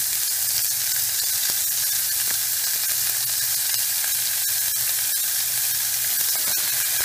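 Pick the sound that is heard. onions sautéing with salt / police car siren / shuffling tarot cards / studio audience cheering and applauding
onions sautéing with salt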